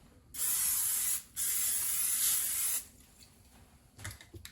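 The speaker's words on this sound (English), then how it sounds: "we're going to grease our pan with your baking spray" Two bursts of baking spray hissing close by as a pan is greased, a long one followed by a brief gap and another, then quiet handling noises.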